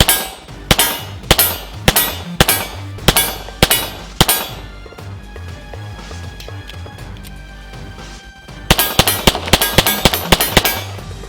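Rapid pistol shots from a Sig Sauer 1911 ring out at a steel target: a fast string of about nine sharp cracks, a pause with faint ringing, then another quick burst of shots, loud and close.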